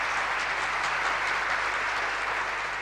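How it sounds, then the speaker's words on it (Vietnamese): A large audience at the 2000 Miss Vietnam beauty pageant final applauds in a steady, dense wash of clapping that holds at an even level throughout, with no voices on top. "chúng ta hãy dành những tràng pháo tay thật nồng nhiệt"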